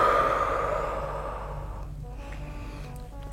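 A dancer breathes out during a leg stretch in a dance class, one long, loud sigh-like exhalation that fades gradually over about two seconds, leaving a quiet room.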